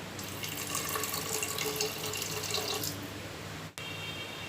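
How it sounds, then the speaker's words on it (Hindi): Half a cup of water pours into qeema mince in a pan with a steady, close splashing rush that stops abruptly, then a quieter hiss carries on. "अब इसमें ½ कप पानी डाल दें"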